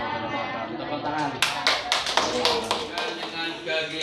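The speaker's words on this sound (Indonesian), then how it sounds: "Tepuk tangan" A classroom of pupils claps their hands in a burst of sharp, overlapping claps, fairly close, with children's voices and chatter continuing underneath.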